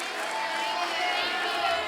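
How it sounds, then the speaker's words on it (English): Audience applause with scattered cheering from a crowd at a live event, a steady broad wash of clapping that holds at an even level for the whole stretch. "round of applause for being so professional"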